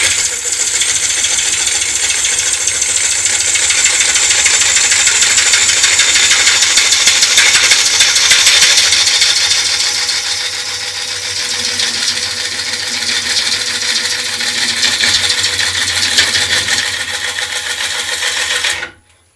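A wood lathe turns a sycamore blank into a rough shape, with a steady, loud hiss and whir of the tool cutting and throwing shavings. It runs continuously for most of the stretch, then cuts off abruptly at the end.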